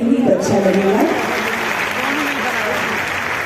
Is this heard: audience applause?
yes